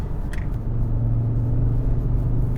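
An Audi RS Q3 Sportback, driven in manual mode, gives a deep, steady engine rumble from inside the cabin that builds slightly as it accelerates, with a brief click near the start.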